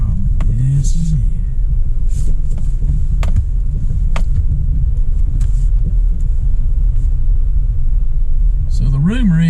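A four-wheel-drive car idles with a steady low engine rumble throughout, close and continuous, while people talk over it at a haunted site in the Tri-Cities area of Tennessee.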